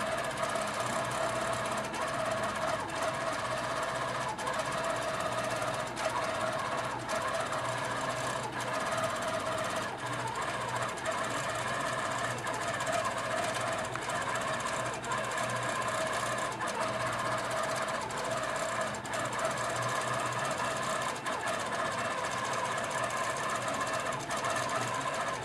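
A Handi Quilter Pro Stitcher computerized quilting machine runs steadily, its needle stitching in a fast, even mechanical rhythm with a constant motor hum, fairly close and continuous with no talk.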